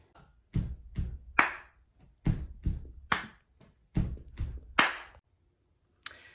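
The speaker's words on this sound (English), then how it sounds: "We took this pattern and we went stomp, stomp, clap, stomp, stomp, clap, stomp, stomp, clap." Percussive body-percussion pattern for a children's activity: two stomps and a clap, repeated three times in a steady rhythm, close and fairly loud, with brief pauses between groups and no talking.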